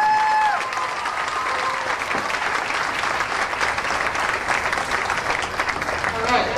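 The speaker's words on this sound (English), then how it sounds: "And how about one more round of applause for the Logan County Queen candidate?" A county fair crowd applauds a Logan County Queen candidate at the 2004 Ohio fair pageant, a steady, moderately loud roll of clapping that carries on for several seconds, with faint voices mixed in beneath it.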